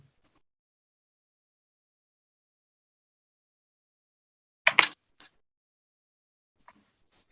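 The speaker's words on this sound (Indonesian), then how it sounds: "Itu suara dari tepuk tangan." Hands clapping in an otherwise silent room: a quick pair of sharp claps, followed by a fainter tap and then one more faint, isolated clap.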